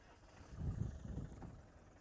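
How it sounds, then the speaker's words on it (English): A Land Rover 110 engine rumbles low and faint while off-road on a dry, steep hill, with a soft, uneven throb that peaks briefly before settling back to a quiet idle. "I'm going to get Amanda to demonstrate to you now using the Land Rover 110."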